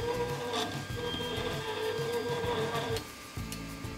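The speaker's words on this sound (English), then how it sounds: "I noticed that the Z-axis screws sounded like this." An Anet A8 3D printer runs its dry, unlubricated Z-axis lead screws, giving a steady mechanical whine with a grinding rasp and faint ticking, close and continuous before dropping slightly in level near the end.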